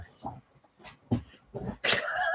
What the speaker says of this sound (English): What are you barking at, yo?